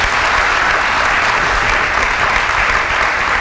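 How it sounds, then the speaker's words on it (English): A loud, sustained round of audience applause greets Aladdin's entrance on a talk show, dense clapping from a crowd that stays even and close from start to finish. "Another round of applause for Aladdin."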